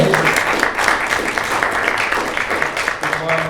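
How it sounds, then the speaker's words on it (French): An audience claps steadily and loudly for a few seconds at a voice actors' panel at a game convention, a dense wash of applause with a little voice noise mixed in. "vous pouvez applaudir notre deuxième comédien, Grégory."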